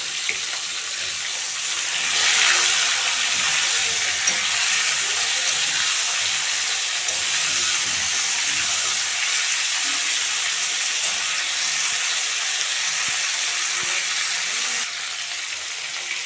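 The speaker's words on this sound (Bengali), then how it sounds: "তো বন্ধুরা, কপিগুলো হালকা ভাজা হয়েছে" Cauliflower florets and potato pieces, coated in turmeric and salt, fry in a pan of oil, giving a steady, close hiss of sizzling with a few scattered pops and stirring clicks, no voices over it.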